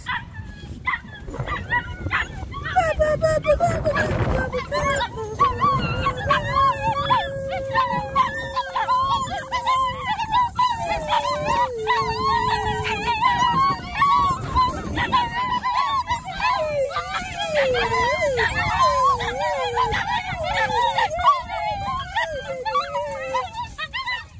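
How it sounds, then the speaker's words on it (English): Puppies on an off-grid farm howl, yip and whimper almost continuously in a rising and falling chorus of high wavering cries, with occasional barks, close and fairly loud. "Oh, puppies."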